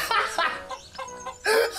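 Chickens in the video game Dude Simulator cluck loudly and close in several squawky bursts, with brief pauses between them.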